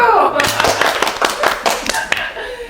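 Talk show hosts on a health and diet program clap together in a short burst of sharp, close hand claps, with people talking around them.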